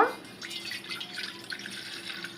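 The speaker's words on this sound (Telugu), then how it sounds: "నేను ఒక గ్లాసు వాటర్ వేస్తున్నాను" A glass of water poured steadily into a pot for masala tea, a continuous close splashing stream lasting a couple of seconds.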